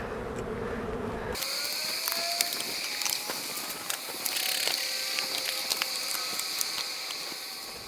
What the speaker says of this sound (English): So we're going to get these straps off of here.